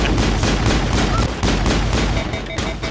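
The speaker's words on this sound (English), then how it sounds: "I hear gunshots" Rapid bursts of gunfire crackle and boom continuously, dense and loud, like a sustained firefight in the video game Mass Effect.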